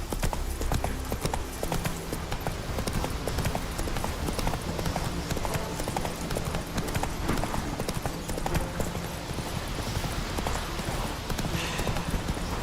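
A horse trotting in the video game The Witcher 3, rapid, steady clip-clop hoofbeats over ambient game sound, continuous and fairly loud.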